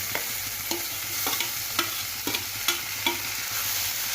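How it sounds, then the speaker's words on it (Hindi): Tomatoes tipped into browned onions in a hot pan, a steady close sizzle of frying broken by regular scraping stirs of a spoon about twice a second. "प्याज के ब्राउन होने के बाद इसमें टमाटर ऐड करेंगे।"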